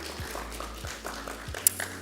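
Steady applause from an audience at a master's occupational therapy pinning ceremony, a dense patter of clapping at moderate volume with a low hum beneath and a few sharper claps standing out near the end.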